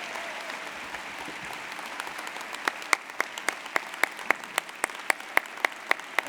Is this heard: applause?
yes